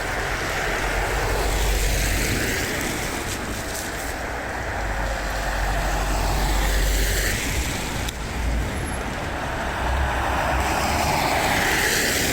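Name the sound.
heavy truck passing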